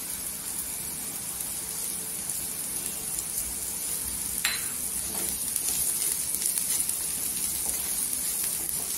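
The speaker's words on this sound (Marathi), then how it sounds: "आणि 1 मिनिट अशी परत तेलावर अशी परतून घ्यायची।" Okra masala with fresh coriander being sautéed in oil, a soft continuous sizzle close by with light stirring scrapes and a few utensil clinks against the pan.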